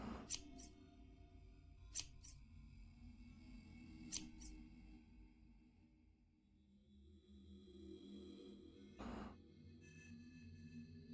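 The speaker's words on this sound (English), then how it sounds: "We're actually controlling the scissors." Scissors snipping as a sapling is pruned in a video game, a few crisp, quiet clicks spaced a couple of seconds apart over a faint background hum, with one softer thud near the end.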